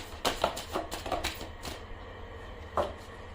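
Tarot cards being shuffled and drawn from a deck, a quick run of soft, close riffling flicks followed by a pause and one more card snap, with no talking.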